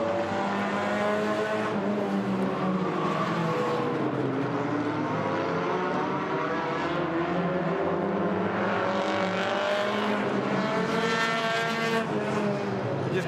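Race cars at Agassiz Speedway roar through a set of corners, with steady engine drone, revs rising and falling through the turns, and occasional passes, continuous and fairly loud.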